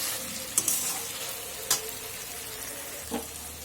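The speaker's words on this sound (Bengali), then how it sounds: "সুন্দর কষানো হচ্ছে।" Vegetables for Bengali shukto sautéing in a pan, a soft continuous sizzle with a few sharp spoon scrapes against the metal, close and fairly quiet, without speech.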